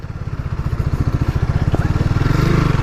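A small motorcycle engine idles near and loud with a fast, even putter of pulses that grows slightly stronger toward the end, with no one talking.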